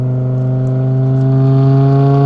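A deep, smooth V10 engine drone from a custom E61 BMW M5 Touring 6-speed station wagon on the road holds steady and builds slightly in loudness, heard from close by with a rich harmonic hum and no voices.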